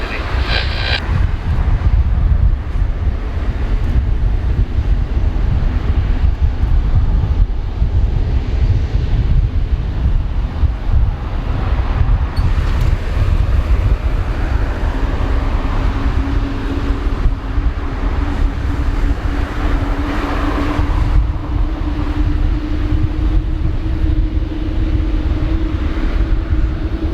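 A Malaysia Airlines Airbus jet takes off at Narita airport in light summer rain, a loud steady engine roar with wind rumble that rises into a rising tonal whine midway through.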